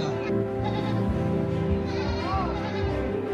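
Etawa goats at a goat show bleat loudly and repeatedly, with several quavering calls overlapping against a busy crowd murmur.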